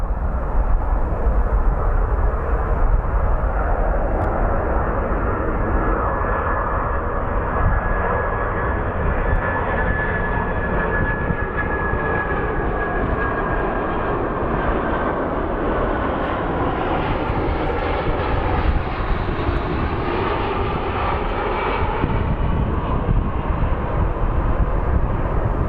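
A Boeing 767 landing at Phoenix Sky Harbor International Airport, its jet engines giving a loud, steady roar with a faint whine that holds for the whole stretch, heard alone with no talk.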